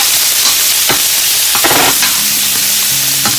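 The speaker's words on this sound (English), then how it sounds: "so I'm just going to saute this for about a minute or so." Onions and garlic sautéing over high heat in melted butter and extra virgin olive oil, a loud, close, constant sizzle broken by a few scraping stirs of a utensil against the pan.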